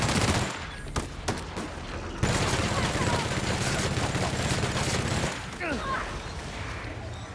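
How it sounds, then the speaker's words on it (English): Rapid bursts of gunfire from a gun in The Outer Worlds crack out loud and close, a dense volley of repeated shots with scattered single shots around it and a short pause near the end. "Shooting a gun while looking cool"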